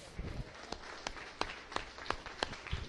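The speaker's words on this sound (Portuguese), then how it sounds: "Salvo de palmas ao Senhor Jesus." A church congregation clapping in praise, with a series of sharp, fairly faint claps landing in a loose rhythm, roughly one every third of a second, in a reverberant hall.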